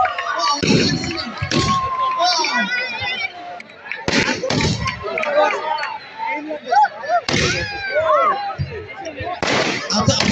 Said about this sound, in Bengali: আতশবাজি চলছে